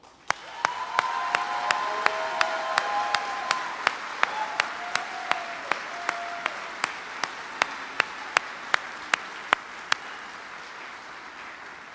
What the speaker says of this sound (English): Please join me in a round of applause for our Army families.